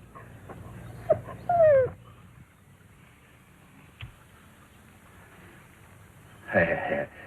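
A dog whimpers in short, high, whining squeals, one early burst and another near the end, with quiet shuffling between; a person's voice sounds briefly amid the whines.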